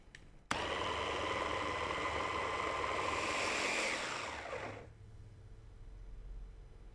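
A food processor whirs loudly for about four seconds as it blends strawberries with a splash of water, then cuts off, leaving a quiet room tone.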